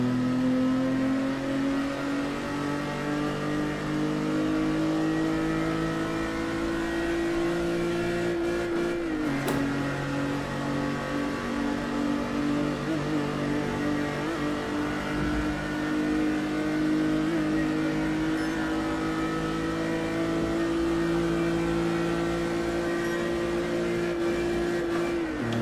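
A Ferrari Dino 246 GTS accelerates in Test Drive Unlimited 2, its simulated engine droning at a steady pitch that rises slowly, dips briefly around a gear change, then climbs again, loud and continuous with no talk.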